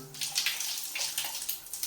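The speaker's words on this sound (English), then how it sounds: "just run the handheld shower head" Water streams from a narrow handheld shower head run through a diverter, a steady high-pressure hiss with small splashing fluctuations, fairly close and with no voices.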